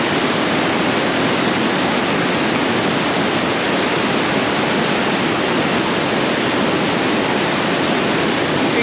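Maranatty Waterfalls on a Kerala ride pours in a constant broadband roar of falling water, loud and close, unbroken throughout with no voices.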